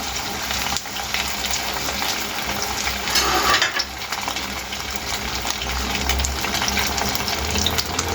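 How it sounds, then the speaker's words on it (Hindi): Chicken sandwich filling being lowered into hot oil, giving a steady, close crackling sizzle that swells briefly midway and then continues evenly. "हम ऑयल के अंदर डालते हैं। ऑयल हमारा गर्म हो चुका हुआ"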